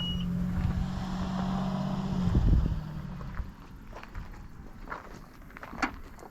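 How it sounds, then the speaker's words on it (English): The power trunk of a 2015 Acura RDX closes with a steady motor hum for about three seconds, then a soft thud followed by scattered faint clicks and rustles. "now we can shut our fancy trunk by pushing this button right here"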